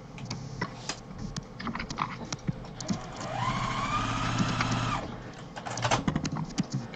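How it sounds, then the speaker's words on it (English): A sewing machine stitching two fabric pieces together for a grocery tote bag, running in a steady whirring burst for about two seconds mid-clip between softer clicks and handling noises. "I'm just going to sew these two pieces together."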